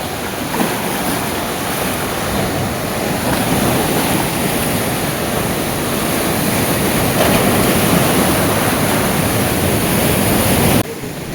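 Sea waves at Mandarmani beach roll in as a continuous loud wash of surf, a dense steady roar close by with some wind, and no voices.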